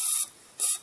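Rem oil sprayed from a can into an opening on a fishing reel: two short, close hissing bursts separated by a brief pause, with no talking.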